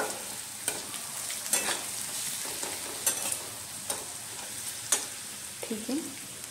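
Chopped onions sizzle steadily in spiced masala for a potato bhaji, with periodic sharp scrapes of a stirring spoon against the pan over a continuous frying hiss.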